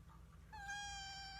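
A single drawn-out cat meow starts partway through and holds a steady, bright tone to the end, close and clear over a low background hum, with no talking.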